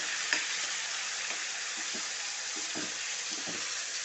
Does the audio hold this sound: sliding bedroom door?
no